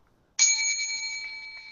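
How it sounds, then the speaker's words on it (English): A bell used as a quiz buzzer is struck once with a sharp attack, then rings on as a clear, bright tone that slowly fades, alone after near silence. "I just give it a whack on the bell end and it's all right."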